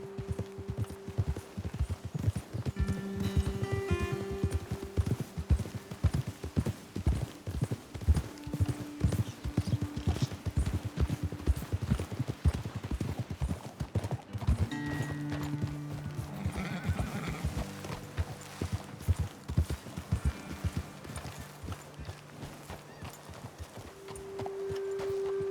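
Horses in Red Dead Redemption 2 trot and gallop with a steady, rapid clip-clop of hooves close by, with occasional whinnies and snorts over a continuous musical bed, no talking.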